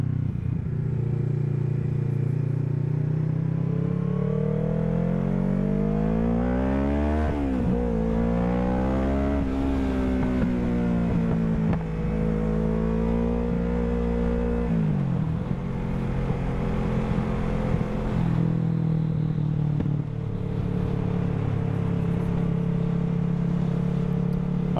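Car engine accelerating through repeated rises in pitch as it revs up and shifts, loud and close, heard from inside the car on a road with little speech.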